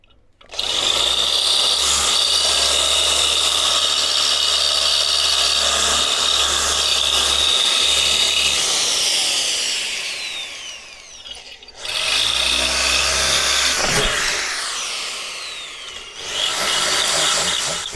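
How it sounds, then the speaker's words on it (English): A power drill bores out a stud on a Toyota Hilux, loud and close, with a long continuous whining run, a short pause, then two more drilling bursts. "best way to get this out is I'm just going to drill it out"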